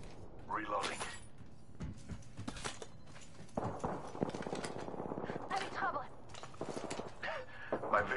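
Gunfire crackles in Apex Legends as sharp bursts of shots and rapid volleys break out between clattering footsteps and mechanical clicks, with a voice talking over much of the action.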